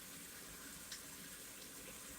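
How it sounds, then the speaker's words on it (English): Water drizzles onto lamb in a cooking pot, making a faint, steady watery hiss and splash that runs without pause for a couple of seconds, with no talk over it. "So what we add to the lamb is a drizzle of water."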